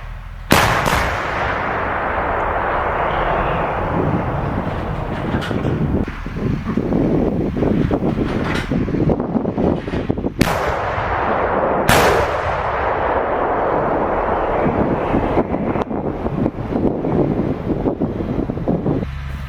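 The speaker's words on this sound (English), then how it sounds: "What you see here on the screen is the Swedish artillery system Archer" Swedish Archer self-propelled artillery system firing outdoors, loud sharp booms at about 0.5, 10.5 and 12 seconds over steady heavy wind rumble, each blast ringing out and fading slowly.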